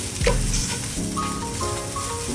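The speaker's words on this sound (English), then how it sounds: "Combine all the ingredients together nicely." Spiced shrimp fried rice ingredients with curry powder, salt and pepper being mixed in a hot pot, a brief, steady sizzle and stirring scrape with soft tonal sounds running underneath.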